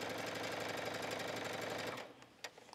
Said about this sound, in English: All right, I'm just gonna stitch around.